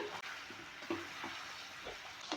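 Torn leftover chapati is stirred through a tempering in a pan, a soft steady sizzle with scraping strokes of the spatula every half second or so, quiet and close with no talk.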